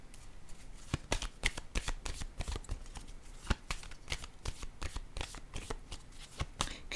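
Tarot cards are shuffled close up in a steady stream of quick riffling slaps and flicks, alone and fairly soft.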